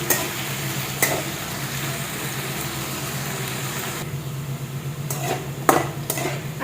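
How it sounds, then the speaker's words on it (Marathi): Diced potato frying in oil in a pan while cooking sabudana khichdi, a steady soft sizzle with a low background hum and a few brief clatters of utensils. "आता बटाटा चांगला शिजलाय तेलामध्ये"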